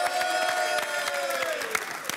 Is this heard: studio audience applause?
yes